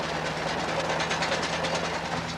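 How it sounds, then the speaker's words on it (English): A tractor-drawn potato harvester scoops potatoes from the ground and shakes the earth off them, giving a steady, loud mechanical rattle and clatter with a constant engine hum running throughout, close by and without voices. "This one scoops the potatoes from the ground and shakes them around until the earth falls off."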